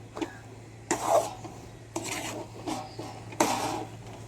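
Sweet being stirred in a pan in a home kitchen, a utensil scraping and clattering against the metal in three or four close, distinct bursts with short pauses between.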